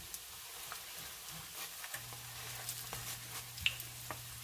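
A chicken chimichanga tortilla frying in oil at low heat, a faint, quiet sizzle with soft scattered pops and crackles and a low steady hum underneath, with no talking.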